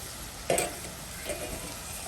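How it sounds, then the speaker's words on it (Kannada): Onions frying in ghee in a pan, a faint steady sizzle with a brief stirring clatter near the start and a softer one later. "ನೋಡಿ, ಈರುಳ್ಳಿ ಕೆಂಪಾಗ್ತಾ ಬಂತು"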